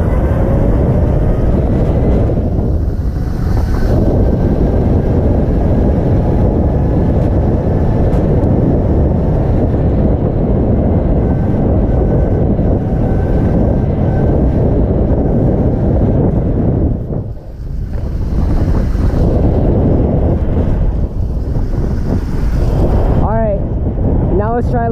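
A 72-volt Razor MX500 electric dirt bike rides at top speed, around 41 mph, with loud, steady wind rush and drivetrain roar throughout and a brief dip near the end.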